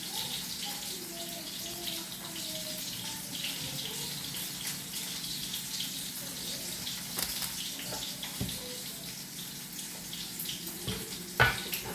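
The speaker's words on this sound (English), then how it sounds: "I've opened the milk, and since I had a little bit left in this one, I'm gonna be pouring it" Milk being poured from a carton into a cooking pot for mac and cheese, a steady close liquid stream with small gurgles and a brief knock near the end.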